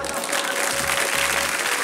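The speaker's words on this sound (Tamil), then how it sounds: "சொன்ன பூஜாவுக்கு எல்லாரும் ஒரு தடவை கைத்தட்டுங்க" A group of children clap their hands together in a classroom, a dense, continuous patter of applause that holds steady and fairly loud throughout, with no voices over it.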